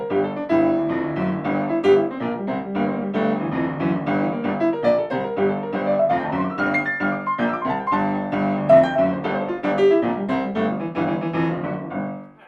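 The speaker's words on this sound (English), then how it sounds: "The Dorian definitely has more of this kind of cool jazz sound to it than an Aeolian one." Piano runs through a Dorian scale in a cool jazz style, a steady stream of clear notes with chords underneath, played solo and close.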